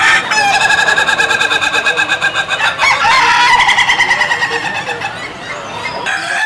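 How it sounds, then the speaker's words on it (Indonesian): A rooster crows loudly and close, its strained cries running back to back with hardly a pause. No voices are heard. "jago yang suka berkokok ya"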